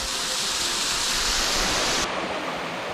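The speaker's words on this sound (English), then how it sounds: "Alright, so this is the next cascade, 2 little levels." A creek tumbles down a two-level cascade at a hidden waterfall in Queensland's Sunshine Coast bushland, giving a steady, loud, close rush of falling water that continues unbroken with no voices.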